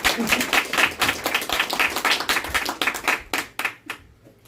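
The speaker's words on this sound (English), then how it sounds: "We'll give them a round of applause." Audience applause at a talk on karma, a dense burst of many hands clapping that thins into scattered individual claps and fades out by the end.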